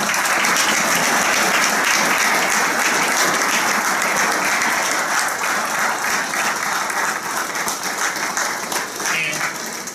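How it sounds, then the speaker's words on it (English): A room full of people at a police awards ceremony gives sustained, loud applause for the award winners, a dense wash of clapping that holds steady throughout and fades only slightly near the end. "If we can give a round of applause for all of our award winners one more time"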